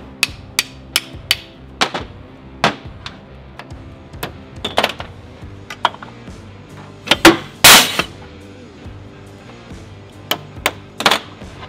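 A socket hammered onto the U-joint bearing cap of a Toyota Tacoma drive shaft: a series of sharp metallic hammer blows in an irregular rhythm, close and loud, with a cluster of harder strikes midway.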